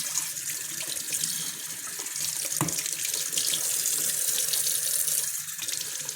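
Tap water runs steadily into a sink while a container is rinsed and washed by hand, a continuous close splashing flow with no one talking.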